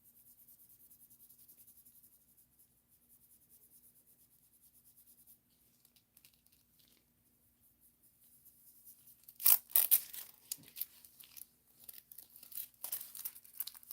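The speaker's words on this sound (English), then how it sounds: "let me go ahead with the foil here" Aluminium foil crinkles and tears in short, sharp bursts as it is handled for rock art, quiet and close, after a stretch of faint scratching.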